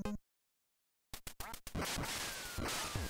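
Ducks quack in the Duck Hunt video game: a short burst of sound, a second of silence, then a run of quick quacks and squawks in a rapid, uneven rhythm, loud and close over electronic game noise.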